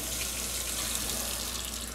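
Hot water from a tap pours into a jar of pickled sausages, making a steady, even rush with no pauses or talk.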